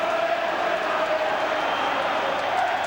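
A football stadium crowd roars steadily through a Liverpool versus Genoa UEFA Cup quarter-final second leg, a dense, continuous wash of cheering that stays loud and even throughout.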